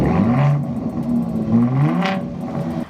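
A truck engine with dual exhaust revs up and settles in two rising, whirring surges, loud and close, with no voices over it.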